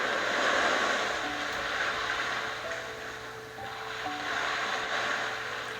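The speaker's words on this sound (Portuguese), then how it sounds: "Esse som do mar, se conectando com ele." Sea waves wash in a continuous, gently swelling roar, soft and distant, with faint tonal hums beneath.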